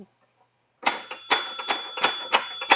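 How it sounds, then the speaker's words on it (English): Bell of a Coleco home pinball machine struck in a quick, irregular series of bright metallic rings, close and loud after a brief silence, each ring decaying before the next. "So it looks like as the bell hits, it's turning it."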